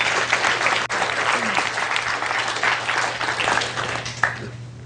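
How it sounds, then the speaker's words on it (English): An audience applauds Andrew after a conversational hypnosis demonstration, a steady wash of many hands clapping at moderate loudness that runs the whole stretch over a low constant hum. "Give him a round of applause."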